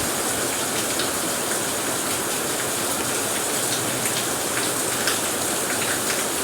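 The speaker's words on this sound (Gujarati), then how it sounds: "અને વરસાદ પણ શરૂ થઈ ગયો છે." Rain pours steadily onto surfaces in a dense, even patter that stays close and unbroken throughout, with no voices.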